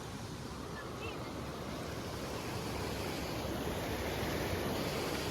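Floodwater rushing loudly down a swollen village river after heavy rain, a steady broadband roar close to the microphone with wind buffeting throughout and no break.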